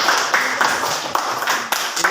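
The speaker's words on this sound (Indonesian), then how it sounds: "tepuk tangan dulu untuk kelompok si Prenta." Students in a classroom clap together for a presenting group, a short burst of close, sharp handclaps with a loose uneven rhythm lasting about two seconds.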